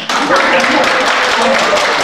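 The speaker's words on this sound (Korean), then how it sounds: "직업에서의 평등 박수 한 번 치세요" A lecture audience at a National Assembly forum on book-writing education applauds, a steady dense clapping that is loud and close and sustained for about two seconds without pause.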